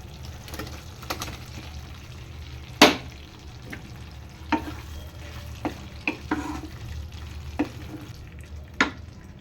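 Chicken pieces sizzle and fry in a pan for chilli chicken, a steady low crackle broken by sharp clinks and scrapes of a spoon stirring against the metal.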